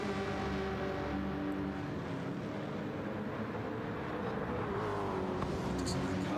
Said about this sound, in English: Doesn't that car just sound amazing? You can listen to that supercharger all day long.